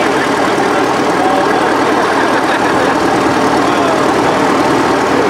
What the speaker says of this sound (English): we got this coming down the road. It's like an International Harvester, old International maybe.